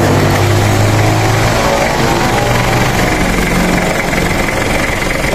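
A Mitsubishi Pajero Gen 2 with a 4M40 diesel engine idles steadily after starting, giving a loud, continuous rough rumble with a fast mechanical clatter running unbroken throughout.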